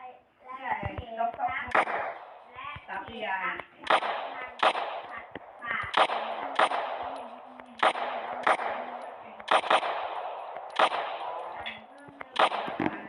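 Rapid bursts of video game gunfire from a Minecraft gun mod ring out in repeated sharp shots with short pauses, while a person talks throughout.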